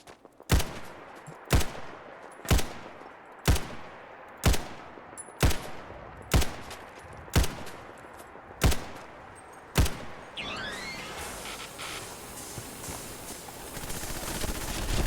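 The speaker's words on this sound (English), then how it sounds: "who's shooting at me from up here?" Gunfire aimed at the player in the video game Fallout 4, about ten sharp single shots at a steady rhythm roughly a second apart, then a swelling rush of noise.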